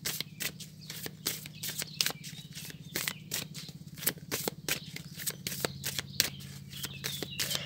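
Lenormand oracle cards being shuffled by hand, a rapid run of crisp riffling slaps and flutters, close and steady, with a faint low hum beneath.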